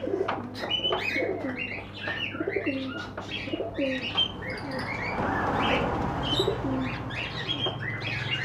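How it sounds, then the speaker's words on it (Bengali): Pigeons coo and other birds chirp steadily in a crowded bird shop in Medinipur, a dense, continuous chorus of nearby calls with no speech. "আর এই যে মধ্যখানে দুটো দেখতে পাচ্ছ এগুলো হচ্ছে মানে গলা পায়রা।"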